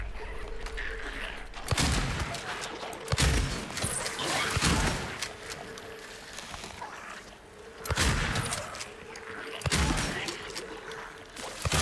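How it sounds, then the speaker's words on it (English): Shotgun blasts in the Silent Hill 2 Remake video game, with several loud, sharp booms spaced a few seconds apart over a low, rumbling ambient backdrop. "It's fucking shotgun time."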